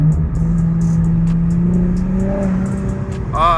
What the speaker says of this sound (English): Oh, I love how that freaking intake sounds.